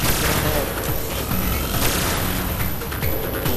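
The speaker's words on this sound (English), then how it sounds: "Four, throw your grenades over there." Grenade explosions and gunfire in the video game Destiny, a dense, loud, continuous barrage of booms and shots with no clear gaps.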